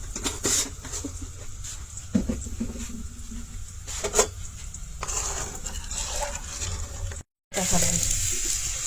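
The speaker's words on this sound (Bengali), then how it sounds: "ওরকম নাড়াচাড়া করিয়া মূলাটা বাজি নিচ্ছি" Radish sizzling and frying in a pan while being stirred, a continuous close hiss with scraping stir strokes throughout.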